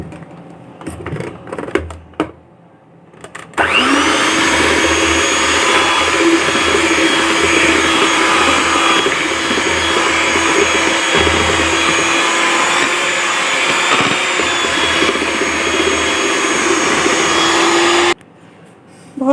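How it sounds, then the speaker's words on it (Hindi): An electric beater whips pink-peach cake frosting in a bowl, a loud steady motor whir running continuously for about fifteen seconds after some brief handling clatter, then cutting off abruptly. "तो चलिए अब इसे फेंट लेते हैं पहले"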